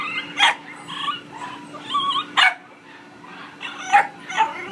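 A poodle mix dog gives a series of short yips and barks with whimpery tones, close and fairly loud, in bursts roughly every second against a faint steady hum.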